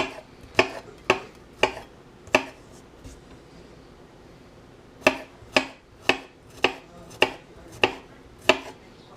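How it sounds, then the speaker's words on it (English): A knife mincing garlic on a cutting board makes sharp, evenly spaced chops, about five in a quick run, then a pause, then a longer steady series of close, crisp knocks with no talking. "We're going to mince up the garlic."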